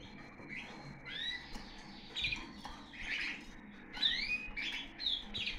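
A caged songbird at a breeder's home chirps in a series of short, bright, sweeping calls and trills, fairly faint over soft background noise, with brief pauses between phrases.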